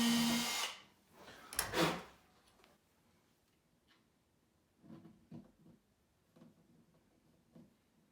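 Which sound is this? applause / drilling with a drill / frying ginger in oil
drilling with a drill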